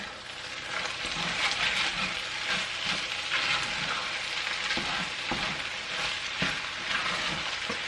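Cooked egg gets stirred into shrimp fried rice in a hot pan, giving a steady close sizzle broken up by the scrape and clatter of the spatula. Nobody talks.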